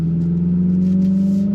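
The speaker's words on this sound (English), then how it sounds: "My mind is telling me I'm in a dual clutch transmission Hyundai performance vehicle with over 600 horsepower" Simulated engine note from a 2025 Hyundai Ioniq 5 N electric car, a steady droning hum like a revving combustion engine held at constant pitch, loud and close, with no talk over it.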